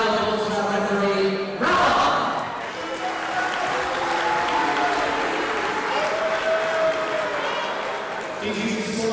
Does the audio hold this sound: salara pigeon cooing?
no